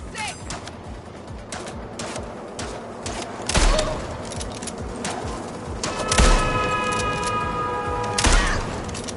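Scattered gunshots in the Mindseye action game crack out in irregular bursts, a few louder reports standing out against a busy background of ambient game sound and faint music.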